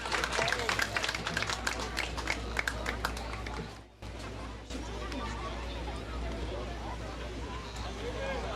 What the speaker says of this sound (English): let's give the state of Alabama another round of applause for their play here this week